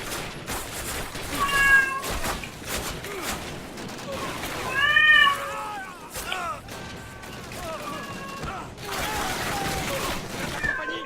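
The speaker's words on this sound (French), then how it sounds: "Le chat qui prend part au combat, génial." A cat meows repeatedly in drawn-out, rising and falling cries amid bursts of gunfire and loud battle noise in Call of Duty Classic, with talking mixed in.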